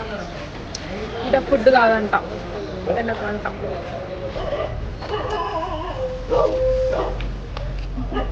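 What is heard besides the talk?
dogs barking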